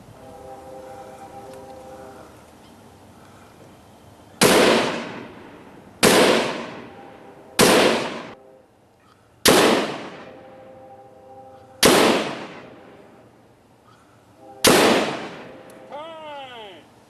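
Police shooters at a firing range, seated, fire pistol rounds: six loud, sharp reports spaced one to two seconds apart, each followed by a short echoing decay outdoors, with quieter background noise between shots.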